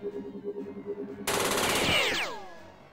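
Jagged Alliance 2 gunfire erupts midway as a loud, dense automatic burst, ringing with a falling metallic tail after a stretch of quieter rhythmic game sound.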